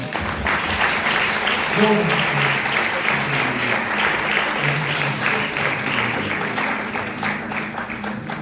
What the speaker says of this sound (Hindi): आइए एक बार फिर खुदावन के जलाल के लिए जोरदार तालियां